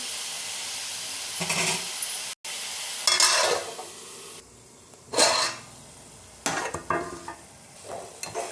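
Spinach curry is stirred in a pot in several separate bursts of scraping and bubbling sizzle, with quieter steamy hiss between them and a brief dropout early on.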